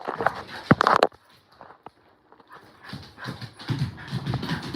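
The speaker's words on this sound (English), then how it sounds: "Now I gotta take this dog out again. Please calm down." A dog moves about nearby, with scuffling paws, panting and bumps coming in loud bursts separated by a quiet pause, and no speech.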